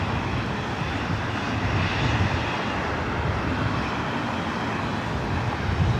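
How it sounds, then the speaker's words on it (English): A Beechcraft King Air 350i turboprop arrives on the north side at LAX, its engines giving a moderate, steady droning rumble heard from a distance with no voices. "Do have a Beach King Air 350i as our next arrival here on the north side."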